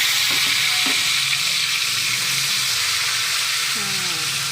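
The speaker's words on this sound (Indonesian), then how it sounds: "Kita oseng-oseng bumbunya." Spice paste for Javanese sambel tumpang sizzles and fries steadily in hot oil, a loud continuous hiss with occasional stirring scrapes and a faint voice in the background.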